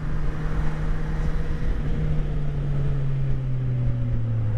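A 2019 Kawasaki Versys SE 1000 four-cylinder motorcycle hums steadily while riding, a smooth low engine drone that slowly shifts pitch under wind rush.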